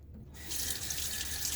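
Water runs steadily from a tap, a close hissing splash that starts after a short quiet moment and continues.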